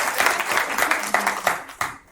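Staff at a school board meeting clap for a new deputy, a brief patter of hands mixed with some voices, the claps uneven and fading out within a couple of seconds.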